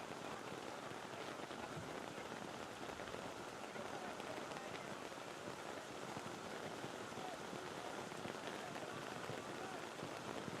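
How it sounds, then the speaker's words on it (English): Heavy rain falls steadily over an outdoor first-grade rugby league match at Coffs Harbour, a dense, even hiss of drops that stays constant throughout, with faint crowd or voices underneath. "As the rain comes down even heavier"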